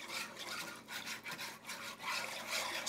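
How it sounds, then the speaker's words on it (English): Apple pie filling being whisked by hand, a steady brushy scraping with repeated strokes in an even rhythm, close and moderately quiet with no talking. "We're just gonna whisk everything together."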